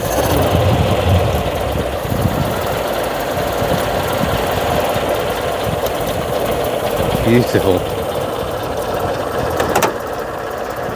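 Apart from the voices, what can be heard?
Costin-DKW classic car side valve engine idling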